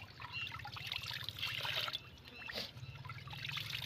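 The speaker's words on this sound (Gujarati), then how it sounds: "જો આમાં તમને પાણી નાખીને બતાવું" Water poured into a container on a peanut farm, a soft continuous trickling and splashing at close range, fairly quiet, with faint background noise and no clear speech.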